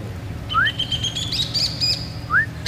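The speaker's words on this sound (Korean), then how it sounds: "Y el cardenal también viene hasta acá al lado mío." Small birds, a cardinal among them, chirp and tweet close by in a leafy garden in Tigre, Argentina, with thin high whistled notes and two quick upward-sweeping calls over a steady low background hum.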